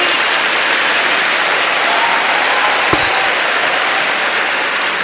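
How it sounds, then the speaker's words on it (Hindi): Sustained applause from a large audience of students, steady loud clapping throughout with a single sharp thump near the middle. "आप लोगों को खुद के लिए एक बार बहुत ज़ोरदार तालियां बजानी चाहिए खुद के लिए।"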